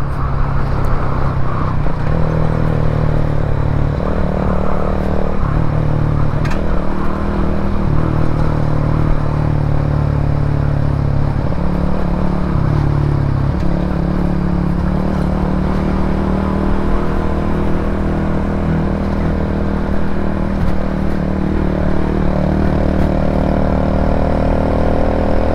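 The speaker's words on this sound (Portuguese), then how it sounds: "vamos ouvir o sonzinho dela" A Shineray Worker 125 motorcycle's engine drones steadily while ridden in traffic, a loud continuous hum with pitch shifts as gears change and the rider accelerates, plus wind noise throughout.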